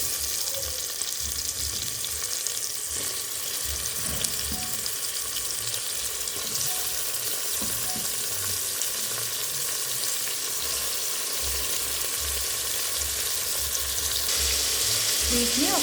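Tomato pieces and softened onions fry steadily in a pan for tomato rice, a continuous close sizzle and crackle with occasional stirring scrapes, no talking.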